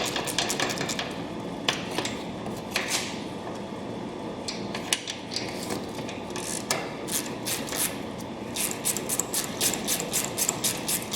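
A hand ratchet clicks in rapid bursts while loosening two 12mm bolts atop the shock bracket on a 100 Series Land Cruiser that holds the AHC fluid lines, with sharp pawl ticks and short pauses between runs.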